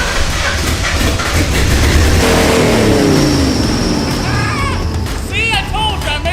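The engine of a 4x4 Lincoln car cranks and starts, then keeps running with a loud rough roar. A car alarm chirps in repeated bursts toward the end.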